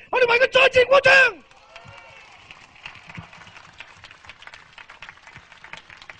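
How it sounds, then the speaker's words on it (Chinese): A crowd at a 1989 outdoor concert for democracy in Hong Kong breaks into a short, loud burst of rhythmic clapping and cheering, then fades into a low murmur of distant crowd noise. "我哋为佢再次鼓掌。"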